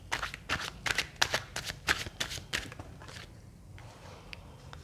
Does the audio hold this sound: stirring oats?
no